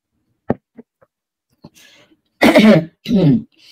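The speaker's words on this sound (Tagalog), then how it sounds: "Medyo inuubo kasi ako." A person coughs a few times and clears their throat: a sharp cough, some small throat sounds, then two heavier, rougher coughs close by.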